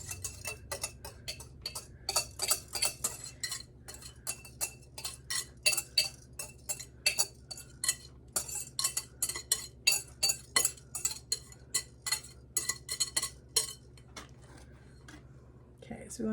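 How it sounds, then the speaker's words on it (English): Cooked eggs mixed with cheese tumble and scrape onto a metal sheet pan in a home kitchen, a long run of quick clinks and ticks with a steady low hum beneath. "We're going to go ahead and dump these eggs on here."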